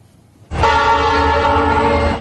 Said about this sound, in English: A train whistle signals the approach of noon here in West Suburban River Grove.